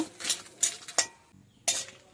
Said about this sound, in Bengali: এখন আমি শুকনা খোলায় ভেজে নিব প্রথমে লঙ্কাটা দিব লঙ্কাটা দিয়ে অল্প ভাজব